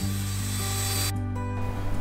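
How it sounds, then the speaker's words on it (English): A cordless drill fitted with a wire brush whirs steadily while scrubbing rust off a steel narrowboat bow, a continuous grinding hum with a shift in tone partway through. "I'm also using a wire attachment to my cordless drill, and this has been fundamental in removing the smaller rust patches"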